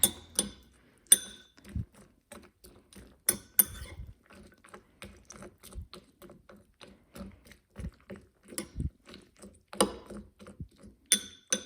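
A spoon clinks and scrapes against a bowl while stirring Rice Chex cereal in 2% milk, with irregular light taps and rattles, close and fairly quiet.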